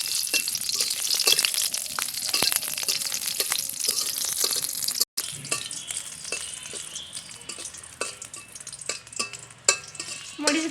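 Green chilies frying in hot white cooking oil in a pan, a steady loud crackling sizzle with stirring and scraping clatter throughout, briefly cutting out midway before the frying hiss resumes, with no talking.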